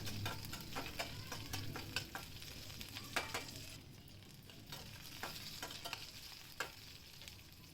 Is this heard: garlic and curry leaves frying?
yes